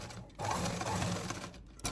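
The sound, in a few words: sewing machine stitching a churidar pant hem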